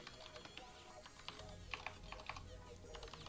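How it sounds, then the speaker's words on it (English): Computer keyboard typed on in quick irregular clusters of soft clicks, faint and close, with quiet voices murmuring in the background. "Sorry, I'm typing to people in the stream."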